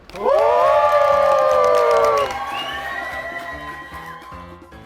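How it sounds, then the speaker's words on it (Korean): A church high-school youth congregation cheering and clapping together at a Sunday service, a loud burst of whoops and shouts that rises sharply, holds strong for about two seconds, then tapers into scattered applause and chatter. "우리 박수로 환호하면서 시작하도록 하겠습니다."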